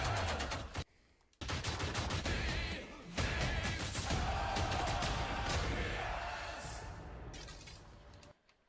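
Mortar blasts and gunfire in the sci-fi shooter Anthem, dense bursts of shots and explosions with a short gap near the start, loud and continuous, then fading at the end.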